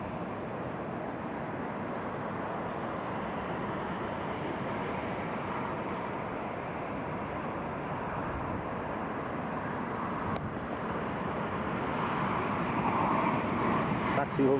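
Airliners from British Airways and Jet2 push back and taxi at Newcastle International Airport, a steady broad jet-engine roar that holds even and moderately loud throughout, swelling slightly near the end.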